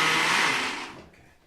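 A kitchen blender whirs loud and close for about a second while pureeing tomatoes for an eggplant pasta sauce, then its motor fades away as it winds down.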